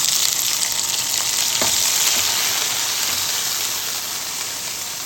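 Ingredients for salmon sinigang fry in a hot pan with a loud, steady sizzle and a few stirring scrapes, close and continuous throughout.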